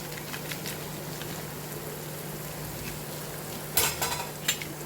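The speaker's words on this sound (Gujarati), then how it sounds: "તો હલાવી દઈશ." Sambar being stirred in a pot, a soft steady bubbling hiss with a few scraping clinks of the spoon against the pot near the end.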